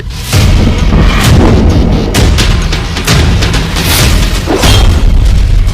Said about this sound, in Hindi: ईरान ने इजराइल पर दागी बैलिस्टिक मिसाइल।